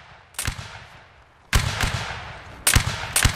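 Musket volleys fired in Mount and Blade Warband: Napoleonic Wars during a line battle, with sharp separate shots and bursts that are loud and fairly close, crackling over a steady low rumble.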